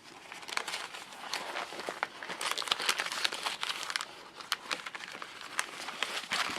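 Small paper items and scraps crinkle and rustle as they are tucked into an envelope inside a handmade Paris journal, a near, steady stream of soft crumpling with little taps, no talking.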